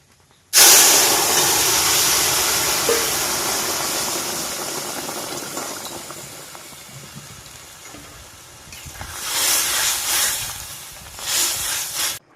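Crab curry tipped into hot fried spices with onion and ginger-garlic paste, bursting into a loud, sudden hiss that gradually fades, then two later swells of steamy sizzling as the pot is stirred; no voices.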